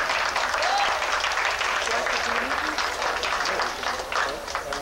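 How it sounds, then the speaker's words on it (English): Audience applause at a live concert by a band, a dense steady wash of many hands clapping through the whole stretch, fairly loud and close, with crowd noise mixed in. "Those applause signs work"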